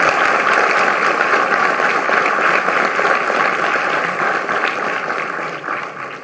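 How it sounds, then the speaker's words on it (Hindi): Sustained, loud applause from a large crowd at a university convocation in Gwalior, welcoming the President of India; dense, even clapping fills the whole span and tapers slightly toward the end. "तालियों की गड़गड़ाहट से हम राष्ट्रपति"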